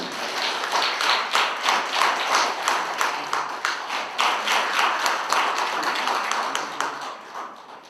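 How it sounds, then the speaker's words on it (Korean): Applause at a Korean newspaper's New Year literary contest award ceremony, close and fairly loud, individual claps distinct in a quick rhythmic stream that fades toward the end. "여러분 축하해 박수입니다."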